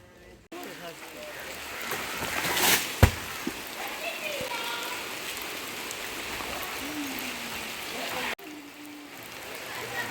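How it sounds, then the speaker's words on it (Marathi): Steady monsoon rain hisses over a Konkan village scene while people talk nearby, with a brief louder thump partway through. "पण पावसान राहिली हजेरी बघूया"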